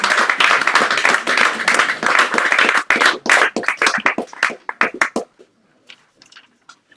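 Audience applause after a poetry reading, steady close clapping that breaks into sparser individual claps and dies away to near silence over the last two seconds.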